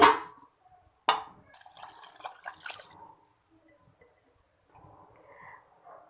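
Water poured from a vessel into a pressure cooker holding washed rice, two cups for one cup of rice: a sharp clink, then a couple of seconds of splashing fill, followed by quiet and faint handling sounds.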